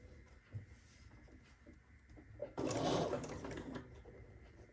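Sewing machine stitching quilt block pieces, a quiet rhythmic whirr that starts after a few soft handling noises and runs steadily, fairly close, for a couple of seconds.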